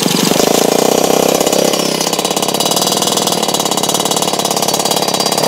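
A heavily modified custom motorcycle engine runs loud and close, first revving hard and then settling into a rapid, rattly, buzzing idle that continues without any talk.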